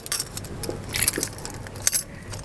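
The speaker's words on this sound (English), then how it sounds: "take my other keys off so it's a lot lighter" Metal keys clinking and jangling as they are worked off a keyring clipped to a car key, a few sharp chinks and rattles close by, short and irregular with quiet gaps between.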